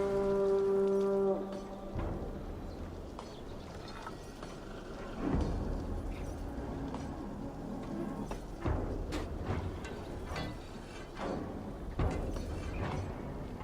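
A Viking war horn in Assassin's Creed Valhalla sounds one deep, sustained low blast at the very start, then fades into a rainy, rumbling battlefield ambience.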